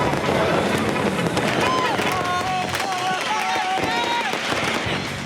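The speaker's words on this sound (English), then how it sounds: "Every kid above the age of 5 seems to have been issued a lighter and a fistful of fireworks." Kids set off fireworks and firecrackers in a crowded square, a dense rapid crackle of pops and bangs running throughout, loud and close, with voices and chatter mixed in.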